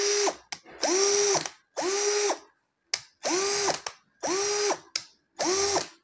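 Repeated whirring bursts from a Sunc 36VF cordless drill as its speed selector is switched, each short spin with a rising then steady pitch, about six separate runs in a row with brief clicks and pauses between them.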